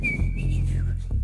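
A bright whistled melody with gliding, warbling notes imitating a nightingale's song, heard over a low steady hum.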